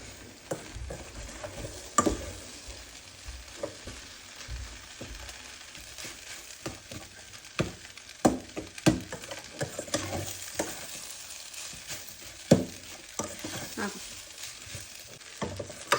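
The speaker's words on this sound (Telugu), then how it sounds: "ఇలా అన్నం కూడా వేసేసుకొని నీట్గా అంతా మసాలా అంతా కలిసేటట్టు" Cooked rice with masala is stirred in a pan, a steady low sizzle with repeated scraping and clacking from the spoon against the pan, close and continuous.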